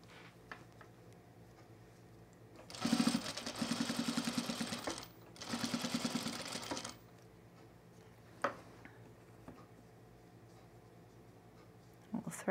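A home sewing machine stitches through thick side seams of culottes in two loud, rapid bursts separated by a short pause, followed by quiet with a few faint clicks and handling noises.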